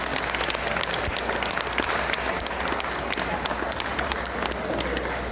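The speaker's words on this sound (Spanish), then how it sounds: "un aplauso." Audience applause after a storytelling session at a festival of masks in Heredia, steady dense clapping from a crowd filling the whole stretch, moderately loud and close.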